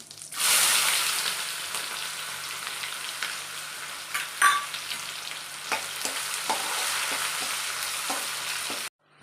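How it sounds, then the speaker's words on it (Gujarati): Onion fries in oil with cumin and asafoetida for stuffed bitter gourd, a loud, hissing sizzle that begins abruptly, holds steady with scattered scraping stirs, then cuts off suddenly near the end. "હવે આપણે આ ડુંગળી શેકી લીધી છે."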